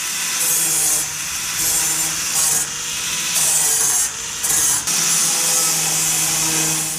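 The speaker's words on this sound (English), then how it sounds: "Now I'm going to use a flap disc to clean up the cut." Flap disc grinding and smoothing the freshly cut edge of a Toyota Tacoma rear fender, a loud, steady abrasive rasp that runs throughout with brief dips and surges as the disc moves along the metal.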